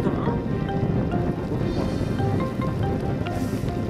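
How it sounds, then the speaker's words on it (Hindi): Steady rain falls continuously after a long night of downpour in low-lying areas, a dense, even hiss with no pauses or other distinct sounds. "कल देर रात से ही निचले स्थानों में लगातार बारिश हो रही है"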